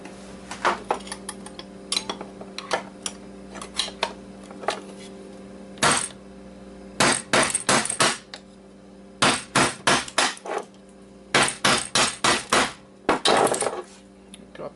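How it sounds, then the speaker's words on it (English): Hammering on a part from an old Xbox hard drive, sharp metallic clinks at first sparse and light, then repeated clusters of loud rapid strikes, close and alone. "So I can hammer this thing out."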